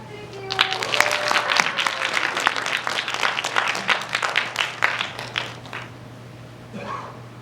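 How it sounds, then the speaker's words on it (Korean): An audience claps at a youth self-esteem project final presentation. The applause is dense and steady for about five seconds, then thins and fades. A brief voice is heard near the end. "여러분 박수 한번 부탁드릴게요."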